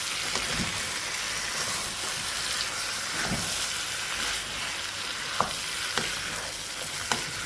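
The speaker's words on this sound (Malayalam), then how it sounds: "മല്ലിയില ഇട്ട് കൊടുക്കാം കുറച്ച് ഉള്ളി കട്ട് ചെയ്തതും കൂടി ഇട്ട് കൊടുക്കുക എന്നിട്ട് നന്നായി മിക്സ് ചെയ്തെടുക്കുക" Hyderabadi chicken fry roast sizzles in a pan as coriander leaves and chopped onion are mixed in, giving a dense steady frying hiss with a few sharp spatula clicks.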